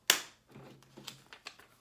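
One crisp hand clap cracks out near and loud, followed by a few faint, scattered taps in an otherwise quiet room.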